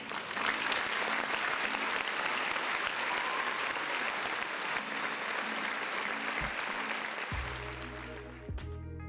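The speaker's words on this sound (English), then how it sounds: "Another round of applause for the folks in the chat." A crowd claps steadily and loudly, a dense wash of applause that carries on throughout before a brief low thump near the end.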